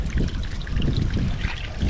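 Water gushes and trickles steadily out of an outboard boat motor being flushed during repair, a continuous close splashing stream with no talking.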